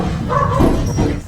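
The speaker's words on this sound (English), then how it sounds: "a man and his dog were woken up by non-stop barking" Dog giving a short bark and yelp, close and loud, a single brief burst with a whimpering tail.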